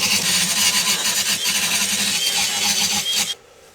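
Grinder knocking down high spots on a metal bracket, a loud, steady abrasive rasp with a rhythmic pulsing texture that cuts off sharply near the end.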